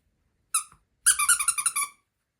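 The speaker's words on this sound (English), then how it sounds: "It squeaks as well, look." A squeaky dog toy belonging to a dog named Lulu squeals once, then after a pause squeaks in a rapid burst of about eight bright, close squeaks as the dog nibbles it, with no talking.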